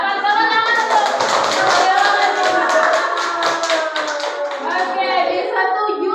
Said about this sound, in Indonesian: Dapat tepuk tangan